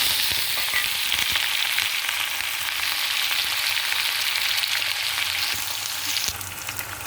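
Onions, green chillies and garlic fry in a hot pan with a steady, dense sizzle that runs close and loud throughout, easing slightly near the end, with no talking.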